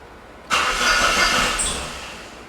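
A Saab 9-3 Turbo engine with a low-oil-pressure problem cranks and fires abruptly, then settles into a steady, loud, close-up run that fades slightly toward the end, with no voices.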